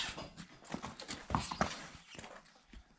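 Draft horse hooves clip-clop in an uneven walking rhythm, fairly close, with some rustling and background noise, no talking.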